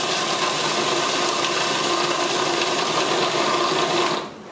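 A food processor whirs a pecan and date mixture with a steady, even mechanical hum and grinding rattle that runs continuously before stopping abruptly at the end.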